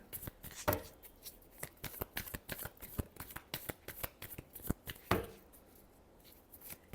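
Tarot cards are shuffled by hand close up, a quiet series of crisp riffling flicks and taps in an irregular rhythm with two sharper slaps.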